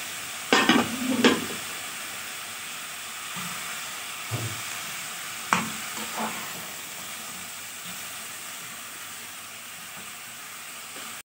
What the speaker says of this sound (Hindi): अब ये लौकी को भी इसी में डाल देते हैं।